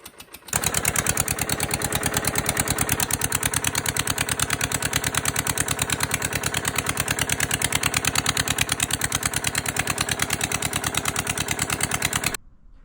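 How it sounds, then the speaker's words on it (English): A small Lister SR2 two-cylinder diesel engine starts and chugs at a fast, even rhythm for about twelve seconds, loud and close, then cuts off abruptly. "So the engine is running on two cylinders with a full set of bearings"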